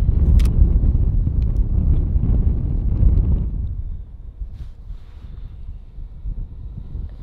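Wind blowing outdoors buffets the microphone during a photo shoot with a tripod, a loud, steady low roar for the first half that drops to a softer, gusty rumble.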